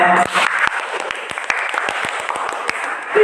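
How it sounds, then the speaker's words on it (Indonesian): A classroom group claps together in a steady, even rhythm of crisp, close hand claps that keeps going over a soft background murmur. "Oke, tepuk tangan semuanya."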